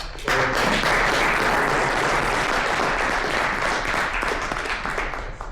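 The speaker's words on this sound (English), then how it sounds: "Please round of applause for Dr. Van Dyke" A large audience at an AI HDL awards ceremony applauds Dr. Van Dyke with loud, dense, sustained clapping that runs the whole stretch and eases slightly toward the end.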